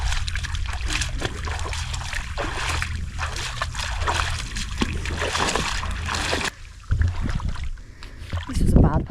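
A kayak paddled through a shallow cut on an Isle of Skye sea trip, its fin scraping the bottom amid steady splashing and water noise, close to the microphone, with a brief voice near the end.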